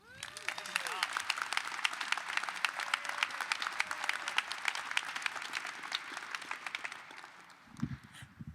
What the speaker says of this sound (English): keep clapping if you're excited about the draft